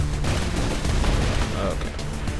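Gunfire in the video game Saints Row IV: a dense, continuous barrage of rapid shots, loud and close, with a voice occasionally audible beneath it.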